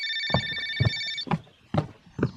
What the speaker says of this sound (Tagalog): Cellphone ko nga yan ngayon, ha? Parang may tumatawag.